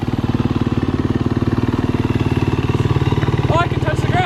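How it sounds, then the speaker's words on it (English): A 350cc fuel-injected trail dirt bike engine idles close by with a steady, rapid thumping pulse, loud and even throughout, and a person speaks briefly near the end. "New dirt bike for me? She's got a lot of power"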